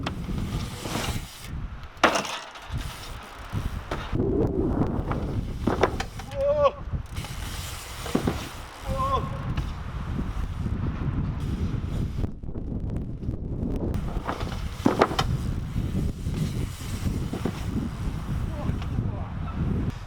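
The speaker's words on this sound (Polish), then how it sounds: "Ale wieje." Strong gusts of wind buffet the microphone outdoors throughout, a steady rumbling roar with brief louder bursts, recorded during bike jump testing on a dirt track.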